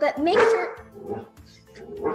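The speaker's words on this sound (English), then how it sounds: "That's our dog." A pet dog barks in a home kitchen during cooking, with a few sharp barks near the start and more later, mixed in with a person talking.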